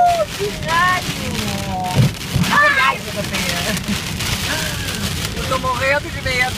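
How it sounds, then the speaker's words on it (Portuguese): A thunderstorm with heavy rain and wind batters a road near Rio Cuarto, Argentina, as a steady loud roar with crackling strikes, while people talk over it. "Raio, tempestade, vento."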